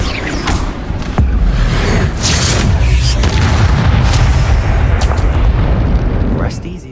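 The Confringo explosion spell goes off in the video game Hogwarts Legacy, with loud booming blasts and rumbling bursts that come one after another while a voice speaks over the action.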